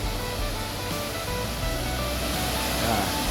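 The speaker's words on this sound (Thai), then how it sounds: "บรรยากาศ น้ำตกไหลเย็นบรรยากาศสด" Tad Khu waterfall near Pakxong in Champasak, a steady broadband rush of falling water that stays loud and even throughout with no talking over it.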